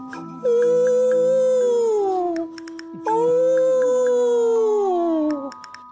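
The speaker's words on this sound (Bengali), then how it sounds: "দূর থেকে কুকুর কাঁদছে" A dog gives two long, drawn-out howls at night, each rising and then sliding slowly downward before trailing off, with a short pause between them.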